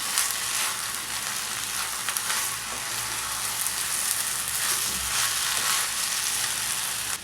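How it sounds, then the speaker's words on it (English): Cooked sabudana (sago) upma stirred in a pan, a steady close sizzle of frying with soft scraping of the spoon running throughout, no voices. "Now remove the lid, stir the sabudana well."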